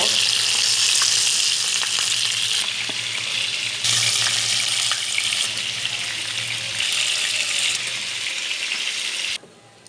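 Vetki fish sizzling steadily in hot oil for a Bengali malaikari, a loud continuous crackle with occasional stirring clinks, cutting off abruptly near the end.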